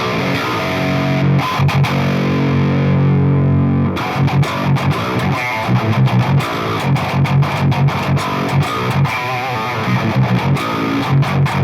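Heavily distorted metal guitar played through a Fredman Fredhead amp simulator with its presence control adjusted, a sustained chord ringing alone, then choppy palm-muted riffing, loud and close.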